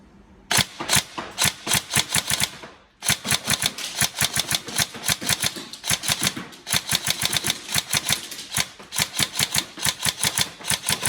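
Tokyo Marui M4 URGI NGRS airsoft electric gun with a Gate Titan control unit and high torque motor, firing close up in fast full-auto bursts with sharp mechanical clatter and one short break.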